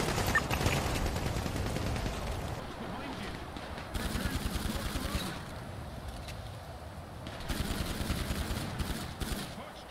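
Gunfire in the GTA RP role-play video game, with bursts of rapid automatic shots coming in several loud volleys and short pauses between them, under players' voices.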